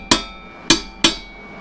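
Three sharp, close metallic taps set a custom hidden winch mount for a Badlands ZXR 5000 winch into place on a Jeep WJ, with the last two coming quickly together.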